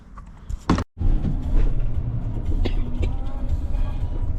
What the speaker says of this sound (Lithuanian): Važiuoju kažkur Vilniuje, kažkokiais žvyrkeliais